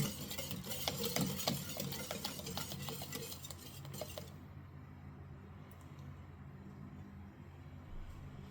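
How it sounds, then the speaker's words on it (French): Whisk clicking and scraping through carrot cake batter in a bowl, quick rhythmic strokes for about four seconds, then a faint quiet stir at the end. "Et puis je fouette jusqu'à ce que la texture soit parfaitement homogène et aérée."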